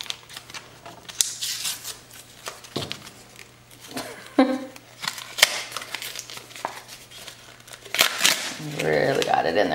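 An Amazon gift card's packaging is worked open by hand, with close crinkling, rustling and tearing of paper and plastic in irregular bursts and a stretch of denser crackling near the end, while a person talks.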